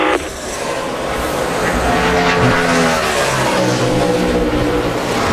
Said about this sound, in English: The 5 of Mark Martin has left pit road